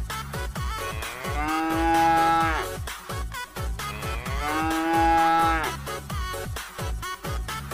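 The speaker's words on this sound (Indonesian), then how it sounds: "Ternyata ini adalah sapi." A cow lets out two long, drawn-out moos, evenly spaced, over a steady rhythmic backing beat in a children's animal-truck toy setting.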